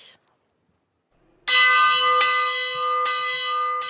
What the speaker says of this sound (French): Chaque jour, depuis 9 siècles, la cloche de l'abbaye d'Hautecombe sonne l'heure de la prière.